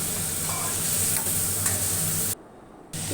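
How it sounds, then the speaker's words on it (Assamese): Paneer cubes and potatoes frying in oil in a pan while being stirred, making a loud, steady close sizzle with a brief dip before it resumes. "পনীৰ আৰু আলু ভাজি ফালে এনেকুৱা হৈ গৈছে"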